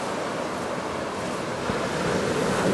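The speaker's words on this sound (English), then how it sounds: "This is the Playa Banco Beach." Ocean waves break steadily on Playa Banco beach in Panama, a continuous loud wash of surf with wind buffeting the microphone and nothing else audible.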